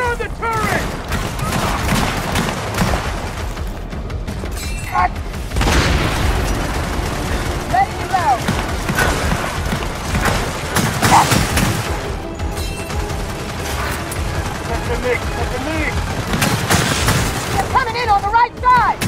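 Mounted turret gunfire rattles in sustained bursts through the Gears of War 4 campaign, broken by heavy explosions and crashes, while voices shout orders over the combat.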